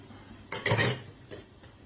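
A lid placed over a pot of cooking vegetables with eggplant: one short metallic clank and rattle as it settles, followed by a fainter second tap.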